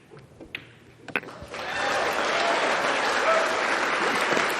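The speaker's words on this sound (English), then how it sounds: "I think you're going to hear a pretty big applause here after game number 1 for SVB." Crowd applause at a pool championship, the 2021 US Open Pool Championship last-16 match, breaking out after the first game and swelling into loud sustained clapping that fills the hall after a few isolated claps.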